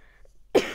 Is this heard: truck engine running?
no